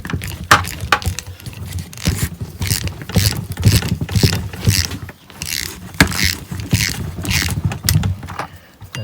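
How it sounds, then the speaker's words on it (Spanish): Wrench loosening the brake caliper plugs on a Mini Cooper, with repeated ratcheting metal clicks and scraping in close, uneven bursts. "cogemos la llave, la aflojamos"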